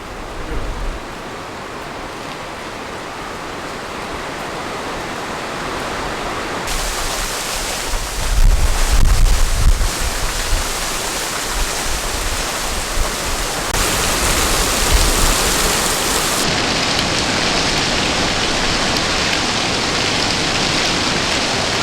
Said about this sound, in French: Durant l'après-midi, il a plu